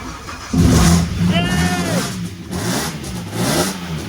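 A fuel-injected hearse engine cranks and catches, then revs in several rising and falling bursts up close with a raspy tone.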